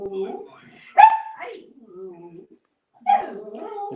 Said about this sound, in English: dog's getting a bit excited